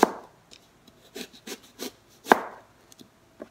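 A knife slices kohila (Lasia spinosa) root on a cutting surface, giving sharp separate chops and scraping cuts in an irregular rhythm, close and fairly quiet.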